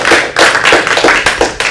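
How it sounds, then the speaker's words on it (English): An audience at a crypto exchanges panel livestream gives a short round of applause for the panel, heard as a few close, loud bursts of clapping in uneven pulses. "Could everyone give it a round of applause?"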